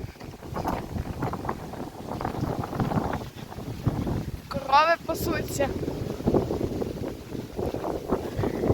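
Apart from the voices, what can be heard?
strong wind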